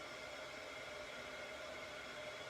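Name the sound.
heat gun embossing tool blowing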